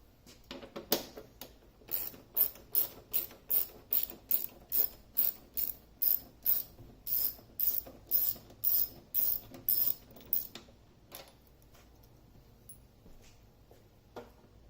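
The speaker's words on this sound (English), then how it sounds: "So it is a 10 millimeter socket. So go ahead and just crack those off." A 10 mm socket ratchet loosens the headlight bolts on a Mini Cooper R56, sounding as a close, quiet series of about fifteen evenly spaced clicking strokes that then stops.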